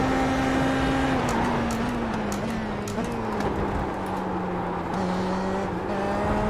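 Open-wheel IndyPro race car on the Laguna Seca circuit, its engine droning loud and steady near the microphone with shifting pitch through the corner, a faint voice under it.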